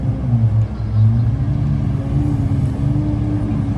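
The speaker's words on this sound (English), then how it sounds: "So we'll get a little flyby here by some of them" Lamborghini Aventador supercars rumble past in Toronto, giving a deep, steady low engine roar that stays loud and fairly close for the whole stretch, with no talking.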